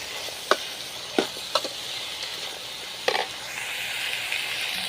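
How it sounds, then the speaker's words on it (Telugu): Small onions and tamarind stirred in a cooking pan for a bottle gourd chutney, with a soft sizzle underneath and a few sharp scraping clatters of the spoon against the pan, no talk. "వీటిని ఒక్కసారి ఇలా కలుపుకొని కాసేపు మగ్గనివ్వాలి."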